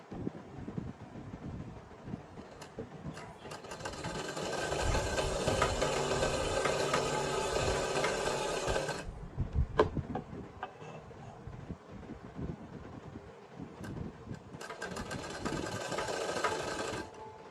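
A sewing machine stitches salwar fabric in two separate runs of steady whirring, with quieter handling and rustling between them.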